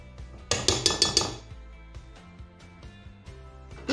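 A sardine omelette mixture is moved to a frying pan, bringing a quick run of bright clinks and clatters of utensil against dish, then softer knocks over a low background hum.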